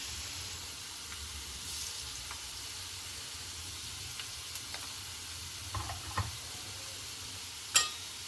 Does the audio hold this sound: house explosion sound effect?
no